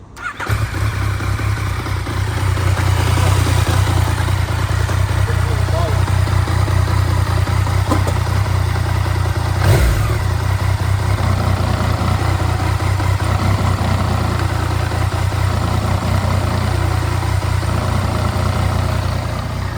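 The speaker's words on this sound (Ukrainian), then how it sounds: "Звук корзини на любій МТ буде чутно." Yamaha MT-09 Tracer with about 37,000 km on it idles steadily and loudly up close, a low engine rumble that holds throughout, with a light mechanical rattle from the clutch basket mixed in.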